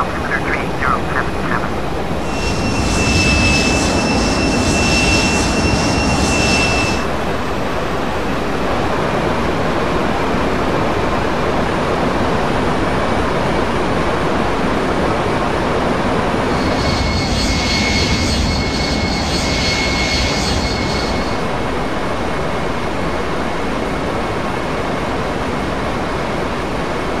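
Inside a KD Avia Boeing 737 cruising at altitude, a loud, steady broadband engine and airflow roar fills the cabin throughout, with intermittent tonal chimes or electronic tones and muffled voices beneath.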